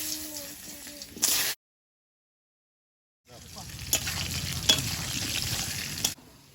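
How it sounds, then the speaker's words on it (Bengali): Potatoes fry in hot oil with a close sizzle and stirring scrapes, broken by a sudden stretch of dead silence before the frying resumes, louder and fuller, then cuts off. "আলুগুলো ভেজে নেব"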